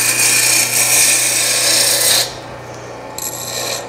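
A roughing gouge cuts wood on a lathe during furniture repair, giving a continuous rasping scrape that stops abruptly partway through, then a brief lighter scrape resumes near the end.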